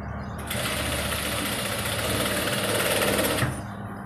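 A sewing machine runs in one steady burst of about three seconds, stitching long strips of fabric for a pillow cover, close and fairly loud, with short quiet pauses before and after.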